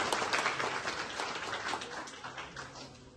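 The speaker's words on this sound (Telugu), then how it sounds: "ఒక్కసారి మనం కృతజ్ఞతా భావంతో చప్పట్లు కొట్టాల్సిన అవసరం" Applause from an audience at a Telangana public event, a steady dense wash of clapping that holds throughout at moderate level, with no speech over it.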